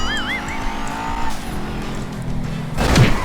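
Racing cars in GTA V on the Akina mountain road, engines droning steadily with a brief tire squeal and burst near the end, loud and close, alongside game music tones.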